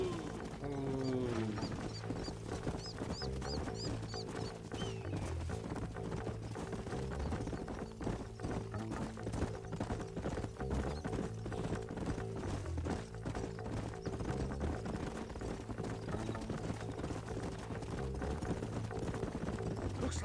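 Horses' hooves clip-clop steadily in Red Dead Redemption, a rhythmic trotting that runs the whole stretch beneath a dense bed of game music and ambience.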